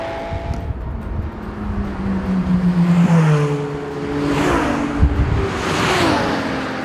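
Ferrari LaFerrari V12 engine revving at speed in top gear, a loud continuous drone with rising and falling pitch sweeps as it pulls hard, the roar swelling and easing over several seconds.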